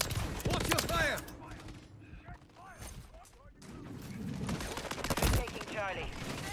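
Gunfire in Call of Duty: Modern Warfare III, loud bursts of shots mixed with game radio callouts and voices during an objective fight, with a dense run of fire near the start and end.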